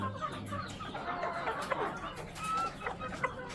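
Chickens and chicks at a home poultry setup, kept by breed, give off busy, overlapping clucks and high peeps, moderately close and continuous throughout, with no talk over them.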